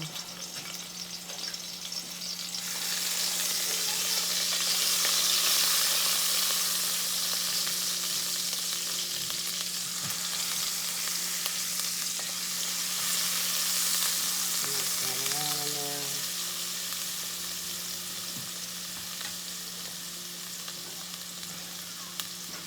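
Sofrito frying in a large family rice pot, a steady broadband sizzle that rises sharply after a few seconds and holds loud and close, with a brief scraping stir midway and a low appliance hum underneath.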